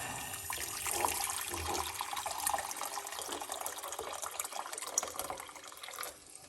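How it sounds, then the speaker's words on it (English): One cup of hot water is poured for parsley and lemon tea, a steady splashing fill that rises and then tapers off near the end, with no talking. "So we're gonna put 1 cup of hot water."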